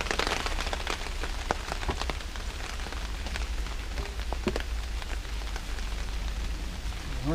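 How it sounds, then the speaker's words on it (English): Steady rain falls outdoors near someone installing injectors on a Caterpillar engine, a constant dense patter with scattered louder drops throughout. "You can rain all it wants to on her now."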